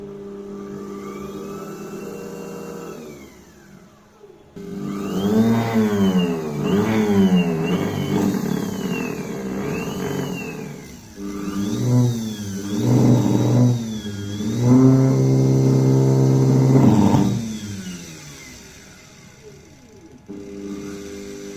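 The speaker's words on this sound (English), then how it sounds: "This is a pretty big DC motor with a big flywheel attached, and it is 180 volts, 4000 rpm" A large 180-volt, 4000 rpm DC motor with a big flywheel attached runs loud and close, whining as it spins up and down in several surges with wavering pitch before it winds down.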